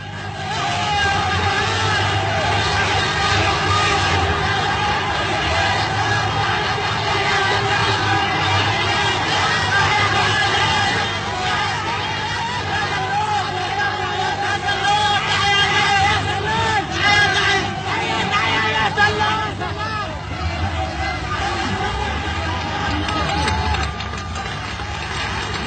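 A dense, noisy crowd mills around the president in Egypt, a steady babble of many voices with a low engine rumble underneath, sustained and close throughout.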